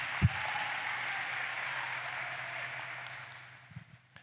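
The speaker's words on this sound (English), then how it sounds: "Let's give them a round of applause." An audience claps through a round of applause at a flight school owners' event hosted by the King Schools team. The applause is steady and fairly distant, then thins out near the end with a few last claps.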